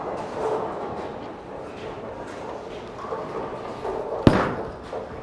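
A Storm IQ Tour solid bowling ball is bowled down a lane, with one sharp crash of impact near the end that rises above steady bowling-alley background noise.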